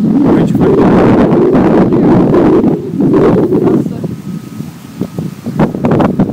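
Strong outdoor wind roars and buffets the microphone in loud, steady gusts, with voices talking over it.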